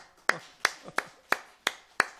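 Six crisp claps sound at an even pace in a church during a Christmas service. They are quiet, separate and evenly spaced rather than a full burst of congregation applause.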